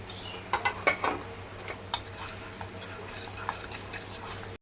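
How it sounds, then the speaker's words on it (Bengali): A spoon clinks and scrapes against a bowl while a slurry of flour and cornflour is mixed with water for chilli paneer. Quick, irregular metallic taps and stirring strokes sit close by in a quiet kitchen with no talking. "স্লারিটা তৈরি করে নিচ্ছি জল দিয়ে।"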